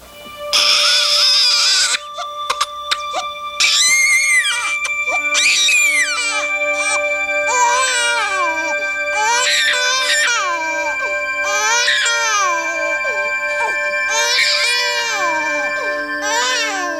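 An infant cries loudly and continuously in a teen pregnancy public service announcement, wailing in repeated rising and falling bursts with brief gasping pauses, alone with no talk.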